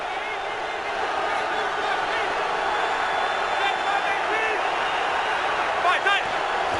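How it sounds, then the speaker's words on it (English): A dense, steady roar of a football stadium crowd during the Giants at 49ers game in 2011, sustained and fairly loud, with a commentator's voice talking over it. "A lot of crowd noise for the Giants to deal with."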